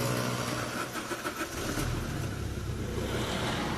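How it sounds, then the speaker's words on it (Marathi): A 2008 Maruti Swift diesel car, after wiring checks and a new ECM with key programming, cranks and fires up; a brief churning start gives way to a steady, close engine rumble. "आता आपण गाडी चालू करतोय"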